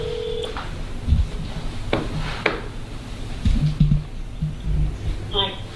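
A cell phone set to speaker dials a call: short electronic tone beeps near the start and a ringing tone at the end, heard over background movement and faint room noise.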